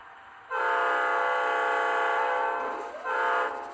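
Scale model locomotive with functioning LSL indicator lights running on a layout, giving a loud steady tonal horn-like sound that holds for several seconds, dips briefly, then sounds again, alone over a quiet background.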